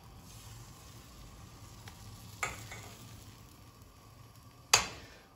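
Crepe batter sizzles in a frying pan, a faint steady hiss broken by two sharp clicks or clatters, with no talking.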